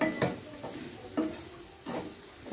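Spoon stirring bitter gourd pieces with onion and masala in a pan, a few scraping strokes at an uneven rhythm over a faint sizzle, quiet and close with no talk.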